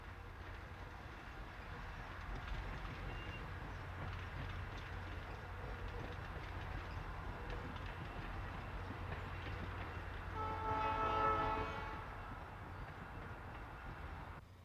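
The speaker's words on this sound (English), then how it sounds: "the train rolls along through the small towns of Yountville, Oakville, and Rutherford on the way to St. Helena" Napa Valley Wine Train, pulled by streamlined diesel locomotives built by Montreal Locomotive Works, rolling through the valley: a steady low rumble of wheels and cars, with a brief louder tonal squeal or horn-like swell near the end.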